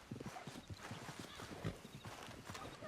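Horse hooves clip-clopping in Red Dead Redemption 2, a quick, continuous run of hoof beats at a steady trot, fairly close, with faint voices mixed underneath.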